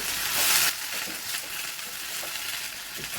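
Chickpea greens (harbhara bhaji) with asafoetida stir-fried in a pan, a steady broadband sizzle that swells loudly in the first moment, then settles into a continuous close frying hiss with faint stirring scrapes.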